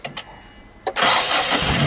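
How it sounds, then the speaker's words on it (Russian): A 2007 Chery Fora's 2.0-litre SQR484F engine cranks briefly with a couple of starter bursts, then catches and settles into a loud, steady roar close by. "Объем двигателя 2 литра SQR484F. Запуск двигателя."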